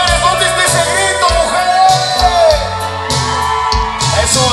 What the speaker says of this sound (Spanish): A ver, mujeres, ¿dónde está ese grito